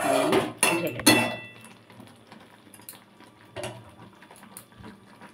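Thick sweet hog plum pickle in caramelized sugar syrup is scraped and poured from a cooking pan, with a few sharp clinks of a utensil against the metal early on, then quieter soft scraping and shuffling.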